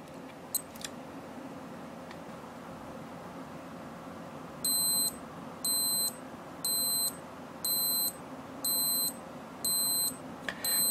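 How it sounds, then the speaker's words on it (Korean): A Casio Protrek PRW-3500T watch sounding its timer alarm: a series of seven short, high, evenly spaced electronic beep bursts, close and clear over quiet room hiss, preceded by a couple of faint clicks. "타이머의 시간이 경과하면 10초간 알림음을 울려줍니다"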